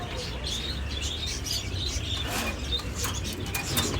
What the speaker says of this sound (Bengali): পাঙ্কি ফ্যাটের কবুতর